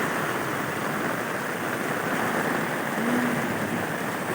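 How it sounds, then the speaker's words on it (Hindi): Village drain water flowing steadily in Mastadi village, a constant rushing wash that sounds like a stream or light rain, heard close and unbroken with no voices. "ये देखो नाला"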